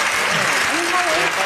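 Steady applause from a studio audience on a comedy television show, continuous and fairly loud for the whole moment, with a voice briefly rising over it.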